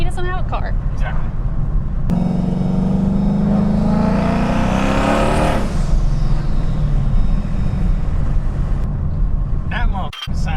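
A Dodge Hellcat passes close by with a loud revving roar that swells to a peak and then fades, while people talk nearby before and after the pass.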